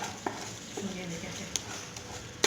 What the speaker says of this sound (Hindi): अब हम इसको अच्छी तरह से भून लेंगे ताकि हमारा जो मसाला है ये अच्छी तरह से मिक्स हो जाए